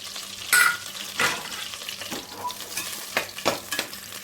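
Whole spices – bay leaf, cinnamon, cloves, fennel and cardamom – frying in oil and melted butter, a soft steady sizzle broken by several sharp scraping stirs of a spoon against the pan, close and with no talking.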